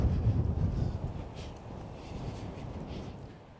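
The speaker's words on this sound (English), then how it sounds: "It's a little bit windy today" Wind buffets the microphone in low rumbling gusts outdoors in Arizona's White Mountains, strongest at the start and gradually easing off.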